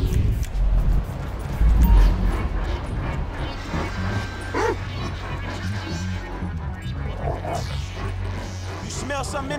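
Chop, the dog in GTA V, barks and yips among dense game sounds, with rumbling background noise and voices talking over the action.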